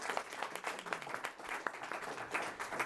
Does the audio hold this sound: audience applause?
yes